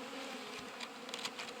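Honeybees in a hive give off a steady, close, continuous buzzing hum in February, with a few louder individual bee passes rising briefly above the drone.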